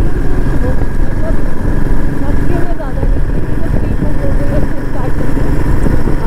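A Royal Enfield Himalayan 450 rides through city traffic, its steady engine drone and road noise running throughout beneath someone talking.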